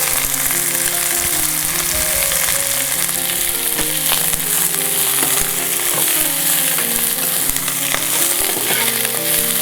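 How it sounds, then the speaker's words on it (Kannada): Onions and curry leaves fry in a pan for a curry leaf chutney, giving a steady, loud, close sizzle that crackles continuously throughout with no talking. "ಸ್ವಲ್ಪ ಈರುಳ್ಳಿಯನ್ನು ಕೂಡ ಫ್ರೈ ಮಾಡಲಿಕ್ಕೆ ಬಳಸೋಣ"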